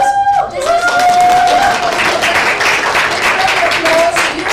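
Loud audience applause with crowd noise swells and holds steadily after a brief opening, a voice ringing through the clapping.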